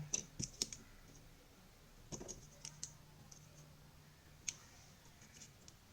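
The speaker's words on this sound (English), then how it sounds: "I have to unbolt these two screws" Small screws on a DJI Mini 3 drone's propellers are worked loose with a tool, giving quiet, close clicks and ticks in scattered short bursts against near silence.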